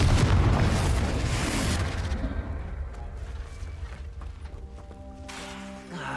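A Confringo blasting spell in Hogwarts Legacy detonates in a loud, booming explosion, with a rumbling decay that thins into lingering crackles and a fading debris tail.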